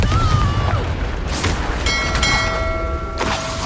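Confringo fire blast spell exploding in a Hogwarts Legacy battle on PS5: loud booms and bursts over a steady game rumble, with ringing magical tones trailing after the blasts.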